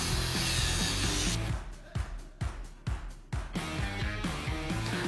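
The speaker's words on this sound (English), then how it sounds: "We cut the bigger pipe into two 3-inch long pieces and the smaller one into two 5-inch long pieces." Steel pipe for a motorcycle swing arm being cut into short pieces with a power saw, a loud steady grinding rasp broken by several brief pauses and restarts before running on continuously.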